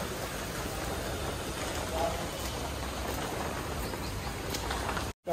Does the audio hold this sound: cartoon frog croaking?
no